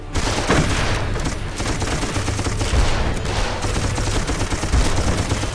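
Rifle gunfire in the game Darkest of Days, dense repeated shots layered over constant battle noise, with louder cracks standing out against a continuous rumbling fusillade.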